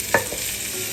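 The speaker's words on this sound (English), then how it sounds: "the first thing we want to do is cook our bacon" Bacon cooking in a pan on the stove, a continuous bright sizzle with a quick clack of a utensil early on, close and alone without talk.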